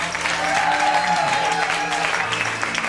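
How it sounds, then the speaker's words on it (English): A comedy stand-up show audience applauds at the close of the set, a steady, dense wash of clapping with some crowd noise, loud and sustained throughout. "Give a big round of applause for everybody who's seen tonight"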